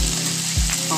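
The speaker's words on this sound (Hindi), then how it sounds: "अब हम इसमें फ्राई किए हुए आलू डाल देंगे" A brief, loud sizzle of fried potatoes hitting hot masala in a pan for red cholafali sabji, with a dull thump of food landing partway through and no speech.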